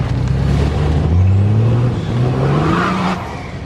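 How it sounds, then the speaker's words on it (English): A turbocharged truck revs at a river-to-beach truck gathering near the Waipara River Bridge, a loud, close engine note climbing and falling through several pitches, followed by a rising whistly whoosh as it eases off near the end. "And that's what a turbo does."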